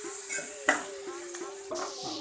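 Onions with a little salt sizzle softly in a pan for a chicken biryani, with light scraping and clinks as a spoon stirs them now and then; a steady, close hiss with a few sharp utensil taps.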